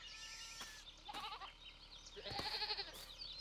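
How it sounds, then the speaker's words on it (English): Sheep and goats on a farm in Farming Simulator 22 bleat several times in short overlapping calls, fairly close, with pauses between them and no talking. "So here we have our standard Farm Sim 22 sheep."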